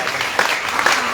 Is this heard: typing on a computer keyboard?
no